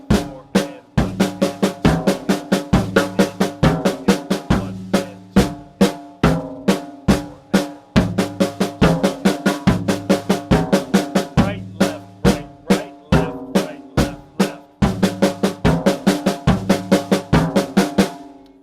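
Paradiddles played on a drum at a steady tempo, moving from eighth notes to faster sixteenth notes, with crisp evenly spaced strokes, loud and unaccompanied.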